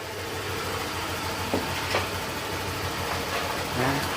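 A Honda Click scooter engine idles with its pulley removed, a steady low rumble running throughout at moderate level with a few brief knocks, no talking over it.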